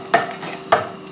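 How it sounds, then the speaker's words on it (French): Onions frying in a pan over medium heat, steady sizzle with two distinct stirring scrapes of a utensil, close and clear without talk. "dans une poêle je vais faire revenir mes oignons"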